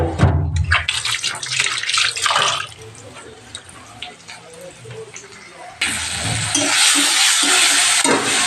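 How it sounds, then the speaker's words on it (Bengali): Broiler chicken being washed under a running kitchen tap, with splashing and gushing water that grows steadier and louder toward the end, while someone talks over it. "আর এখানে দেখো ব্রয়লার এনেছে, ব্রয়লারটা ধুয়ে নেবো।"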